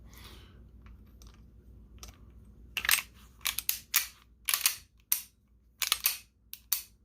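Gun mechanism being function tested after reassembly, giving a series of about ten sharp, close metallic clicks and snaps spaced irregularly after a quiet start, with no talking.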